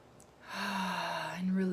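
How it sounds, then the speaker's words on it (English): A slow, deep belly breath during a relaxation practice, released as a soft voiced sigh that swells and holds steady for about a second, close and alone. "take some deep breaths into your belly and relax"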